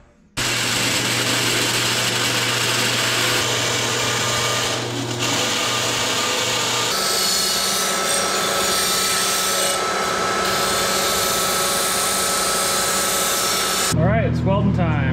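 Cutting a piece of 18 gauge sheet metal for a Panhead oil tank: a continuous, loud, harsh rasping and grinding runs almost the whole time, changing pitch partway through, with a brief voice at the very end.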